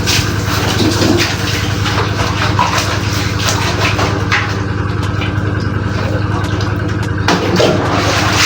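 Water runs steadily from a faucet, a continuous loud gushing rush that holds even throughout, with no talking over it.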